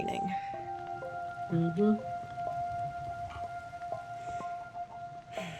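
Steady rain falls in a video game, a soft hiss running through the whole stretch beneath sustained musical tones, with a brief murmured voice near the start.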